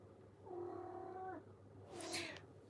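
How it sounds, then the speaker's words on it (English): A cat gives a drawn-out, wavering yowl, close and fairly loud, followed by a short sharp hiss or spit with no talking. "she is a mean cat"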